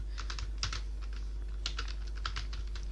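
Keys clatter on a computer keyboard while a billing spreadsheet is built in Excel VBA, quick bursts of soft close taps in uneven clusters over a low steady hum, quiet and without speech.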